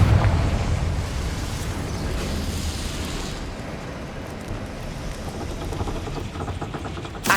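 A Confringo spell explosion in Hogwarts Legacy roars out as a loud, sustained rumbling blast that fills the whole stretch, slowly settling into a dull continuous boom with no talking.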